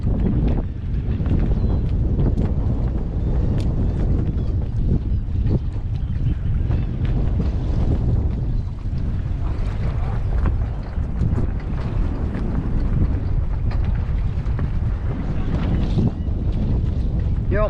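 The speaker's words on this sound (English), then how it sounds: "trying to pull me into this wind" Strong wind batters a fishing boat out on the water, a loud, steady roar of buffeting gusts across the microphone that carries on throughout, with waves beneath it.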